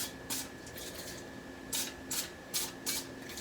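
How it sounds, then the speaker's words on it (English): Cooking spray is spritzed into a baking pan in a home kitchen. There are several short, hissing bursts, one early and then a quick run of four near the end, fairly quiet over a low room hum. "I'm going to just spritz just a little bit of cooking spray in each one"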